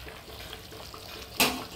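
Jilebi fish kuzhambu, a fish curry, boiling in a pot: a steady soft bubbling hiss with one brief louder burst near the end, and no talking.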